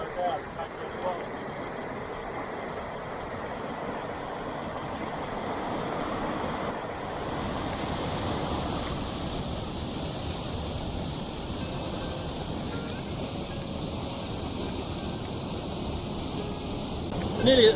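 A swollen river runs high after overnight rain, a steady broad rushing roar of water that holds at a constant level throughout, with wind buffeting the microphone.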